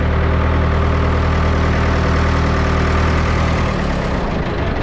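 A Ford 6610 tractor engine idles steadily, a constant low diesel rumble close by with no break in volume.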